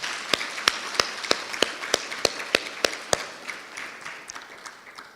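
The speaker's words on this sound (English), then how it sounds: "I think the CS deserves a better clap" At a postgraduate students' conference, a few people clap in a slow, evenly spaced rhythm of sharp, distinct claps over a soft wash of scattered applause that fades out after about three seconds.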